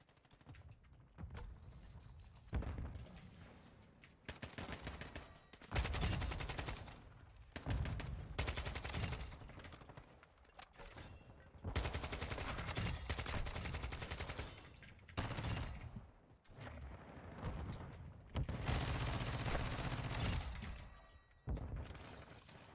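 Repeated bursts of SMG fire from a Kastov 74u in Call of Duty MW2 come in loud, rapid strings with short pauses between volleys throughout.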